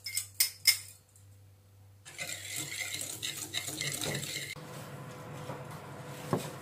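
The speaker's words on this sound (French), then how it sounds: "on commence par incorporer nos jaunes d'œufs à notre sucre et on va battre tout ça jusqu'à ce que ça forme un mélange qui devienne mousseux" A whisk beats egg yolks and sugar in a bowl for Breton shortbread batter, making quick, continuous scraping and tapping strokes against the bowl, close up. A few sharp knocks come first, then the steady whisking follows.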